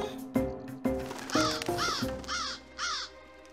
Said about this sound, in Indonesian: Itu kan burung yang di pohon.